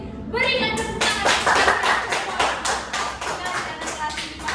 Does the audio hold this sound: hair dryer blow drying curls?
no